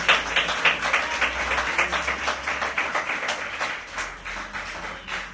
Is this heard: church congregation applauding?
yes